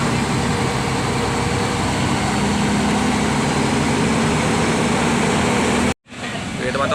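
A truck engine runs steadily at idle during an engine check, a loud continuous low rumble that cuts out abruptly for a moment near the end before the sound resumes.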